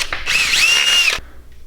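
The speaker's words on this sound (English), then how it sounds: "So go ahead, drill that out." A power drill with a 23/64 drill bit bores a hole in hardware, its whine running loud and steady for about a second before stopping abruptly.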